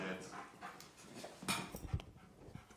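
A two-year-old stray dog pants and softly whimpers close by in a quiet room, with breathy bursts under nearby talk.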